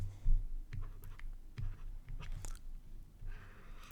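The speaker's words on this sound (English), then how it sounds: "Let me erase this right here." Marker writing being wiped off a board during a long division lesson, a series of soft, close rubbing and squeaking strokes in short bursts, with no one talking.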